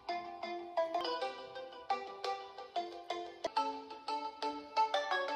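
Melodic electronic phone ringtone for an incoming call, playing a repeating bright chime pattern, fairly clear and alone, with no voices.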